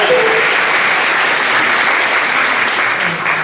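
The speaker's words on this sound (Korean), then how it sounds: "우리를 다스리신 주님 앞에 영광의 박수를 내드리시겠습니다" A church congregation claps during a Sunday worship service, a brief burst of loud, dense applause that stays close and even throughout.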